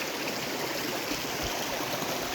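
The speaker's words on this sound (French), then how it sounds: "Donc ici, c'est un petit ruisseau" A small forest stream flows into a river in a park, giving a steady, even broadband rush of running water that holds constant throughout, close and moderately loud, with no voices.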